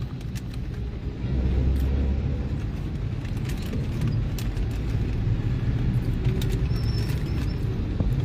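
Steady low road rumble of cars passing by near a cemetery, a continuous broadband drone with no talk.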